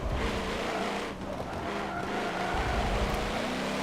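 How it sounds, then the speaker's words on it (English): A Corvette C7R race car in Forza Motorsport 7 roars steadily through an endurance race at Spa, its loud, dense engine drone continuing unbroken with a hint of tire noise, and no one speaking. "The supercharger sounds awesome."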